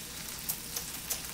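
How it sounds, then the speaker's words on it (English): Five strips of bacon frying in a pan for breakfast burritos, a quiet steady sizzle with a few sharp pops and crackles over the constant hiss. "Alright, so we've given our bacon a flip. We're gonna let it cook a little bit longer"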